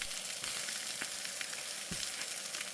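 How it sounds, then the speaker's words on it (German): Small chicken pieces sizzle and fry in a pan while being browned on all sides, a steady close crackling hiss broken by a few sharp pops and the scrape of turning. "Drehe das Hühnerklein auch in der Pfanne, sodass sich wirklich auf jeder Seite Röststoffe entwickeln können."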